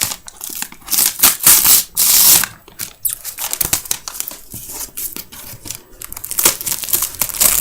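Tearing open a wrapped swap package, paper ripping and crinkling in bursts of loud, close crackles with short pauses between pulls.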